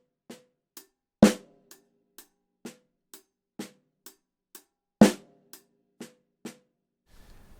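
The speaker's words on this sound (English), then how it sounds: "I'm going to keep the ghost notes much softer by playing them closer to the edge of the drum" A drum kit paradiddle groove: two sharp, loud accented snare strokes stand out among a steady chain of much softer ghost notes tapped near the drum's edge, close and unaccompanied.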